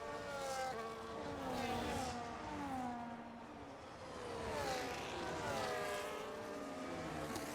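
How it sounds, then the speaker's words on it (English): Race cars scream past in the F1 25 racing game, several engines whining and shifting pitch as they sweep through, loud and continuous with rising and falling revs. "They are racing, driving fast."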